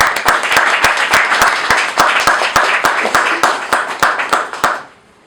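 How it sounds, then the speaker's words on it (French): Conference audience giving a standing ovation: loud, steady clapping with a strong, evenly paced rhythmic beat running for almost five seconds, then stopping abruptly. "sous vos applaudissements, alors de consacrer à M. Sène une standing ovation, s'il vous plaît"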